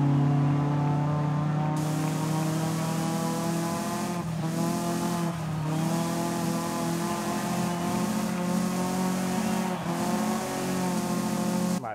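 A 2010 Nissan Tsuru engine in the racing game Forza Horizon 5 holds a loud, steady droning hum for the whole stretch, with brief dips as it shifts or lifts, and no voices.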